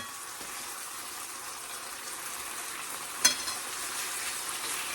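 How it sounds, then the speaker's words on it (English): Cube steaks frying in hot oil over high heat: a steady, close, hissing sizzle that fills the whole stretch, with one brief pop or spatter near the end. "Watch out, you might get burnt by the oil when it's on a high heat like that."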